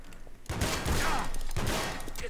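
Pump-action shotgun fire in DarkRP, two sharp bursts about a second apart, each with a rattling tail, fairly quiet overall and heard without talk.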